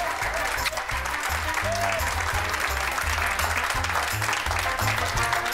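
Studio audience applause on a Turkish daytime show, steady dense clapping over a bouncy music bed with low thumping beats, continuous and fairly loud.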